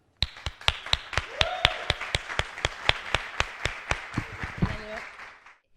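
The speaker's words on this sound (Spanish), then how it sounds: "espero que todos nos paremos y le demos un aplauso a Leo." Clapping at a startup event welcomes a speaker, heard as a single close, steady, evenly spaced series of sharp claps rather than a full crowd, with a voice briefly speaking as it ends.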